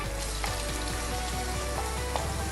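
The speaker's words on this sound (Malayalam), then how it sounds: "ഇത് ചൂടായി വരുമ്പോൾ ഇതിലേക്ക് ഞാൻ ഒരു 3 സവാള നീളത്തിലരിഞ്ഞതാണ് ഇത് ചേർത്ത് കൊടുത്ത്" Three onions, sliced lengthwise, frying in hot oil for a beef tikka biryani. The sizzle is steady, close and continuous, with light crackles and no talking.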